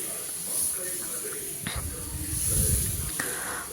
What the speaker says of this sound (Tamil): இப்போ தோசை ஊற்றிக்கலாம்.